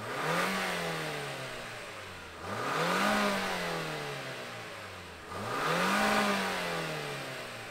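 The turbocharged engine of a 2023 Toyota Highlander SUV starts and revs three times, each rise climbing in pitch and then easing back to a lower idle. The sound is close and loud with no talking.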